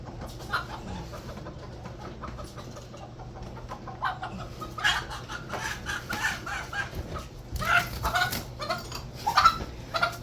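Pet chicken named Peep clucking close by on a rainy day, scattered soft clucks and brief chirpy calls that grow louder and busier toward the end over a low steady background hum.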